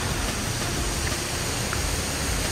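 Bega Falls waterfall roaring steadily as a broad, constant wash of rushing water, close and loud with no voices over it.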